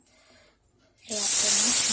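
Onion, ginger paste and ground spices hit hot oil after a brief near-silent pause, bursting into a loud, sustained hiss and sizzle that stays close and steady.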